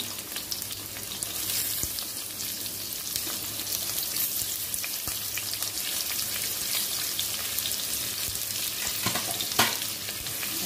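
Onion frying in hot oil with curry leaves, a dense, steady crackling sizzle close up, with a couple of faint stirring knocks near the end and no voices.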